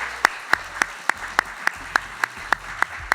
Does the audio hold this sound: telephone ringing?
no